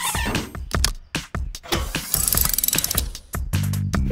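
Cartoon ratchet clicks rapidly while bolting a truck's suspension spring back in place in a children's garage cartoon, the mechanical ratcheting bursts mixed with busy cartoon sound effects and a short tonal jingle near the end.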